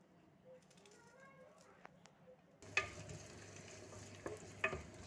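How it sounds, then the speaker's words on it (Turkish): Chopped onions start sizzling in a hot pan partway through, a crackling hiss with a few stirring scrapes, after a quieter stretch with faint voices. "soğanımı doğradım kavuracağım arkadaşlar soğanı"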